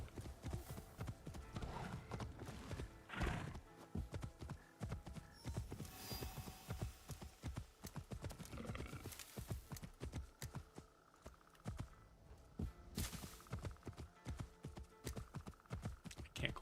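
A video game horse clip-clops steadily across the ground on a mountain path in Assassin's Creed Shadows, rapid continuous hoofbeats with occasional snorts and a whinny over faint ambient game music.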